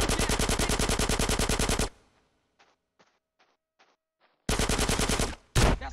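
Covering fire in GTA San Andreas: loud, rapid machine-gun bursts roar close by, stop for a couple of seconds with a few faint scattered shots, then resume in another heavy burst.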